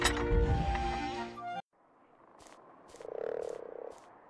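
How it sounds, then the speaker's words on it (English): A frog croaks in the fantasy video game Regalia: Of Men and Monarchs, a few sharp repeated clicks followed by a swelling low croak, heard alone after a burst of music stops. "Oh, did you hear that? A croaking?"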